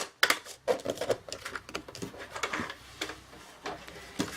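A scoring tool drags repeatedly across a piece of paper in a papercraft project, making a series of crisp, close scratchy ticks and short rasping strokes in an uneven rhythm, with no talking.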